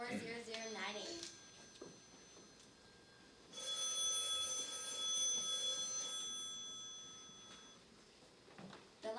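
A telephone line rings repeatedly in a steady ring pattern, clear and mid-close, after someone speaks, in a 1940s-style suspense radio drama set around a Murray Hill exchange number.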